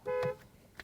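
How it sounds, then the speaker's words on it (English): A 2016 Mercedes-AMG GLE 63S Coupe (C292) gives one short, clear honk of its horn, followed by a faint brief blip in a quiet setting. "And the horn sounds like"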